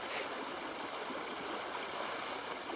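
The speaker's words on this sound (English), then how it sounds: "This never used to be a flowing part of the river." A river flows steadily at a trout fishing spot, a broad continuous rush of water heard close and alone with no pauses.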